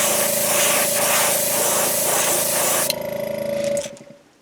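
An airbrush sprays Createx transparent orange paint onto the belly of a jerkbait lure during a repaint, a steady close hiss lasting nearly four seconds before it cuts off.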